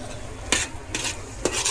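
A spoon scrapes and stirs red chili masala gravy in a pan, three distinct strokes over a soft continuous sizzle, close and moderately loud.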